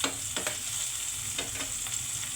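Garlic sizzles in a hot pan while being stirred, a steady broadband frying hiss with a few soft scraping strokes of the utensil, close and moderately loud, no talking.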